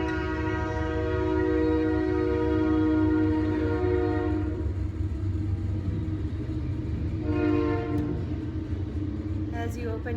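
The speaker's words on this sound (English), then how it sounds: "We've got a train next to us." A train rumbles steadily close by, with a sustained horn blaring over the low rolling drone for several seconds.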